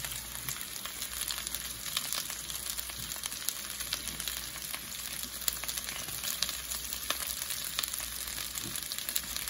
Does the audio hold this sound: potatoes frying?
yes